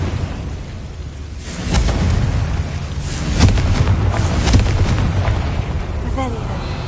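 Confringo blasting curse in Hogwarts Legacy, a series of rumbling booms and bursts layered over a constant background roar, moderately loud, with a few sharper impacts and a short high chirp near the end.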